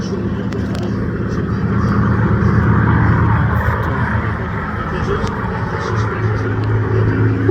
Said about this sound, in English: Lovely tail chase here by the 2 Spitfires.